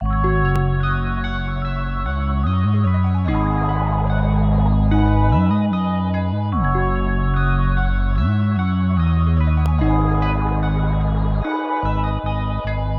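A melodic trap beat plays, with layered synth melodies and small add-on parts over deep sliding bass notes, dense and continuous with echoing textures and no voices.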